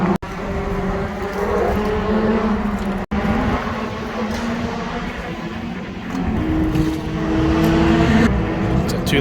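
At Cowdenbeath stock car track, 2 litre banger racing cars such as an old Ford Mondeo and an Astra estate idle and rumble nearby. Their engines drone continuously, with occasional surges, under crowd murmur and voices.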